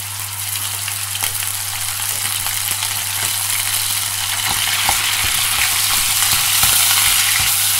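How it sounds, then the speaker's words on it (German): Steady loud sizzling of 400 grams of ground beef searing hot in a pot with rapeseed oil, with scattered crackles and pops over a constant low hum, no voices. "Das werden wir jetzt mal scharf anbraten."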